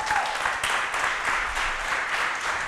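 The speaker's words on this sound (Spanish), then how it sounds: "Yo le doy un fuerte aplauso, Señor" Dense applause from a crowd, steady clapping throughout at moderate loudness, no speech.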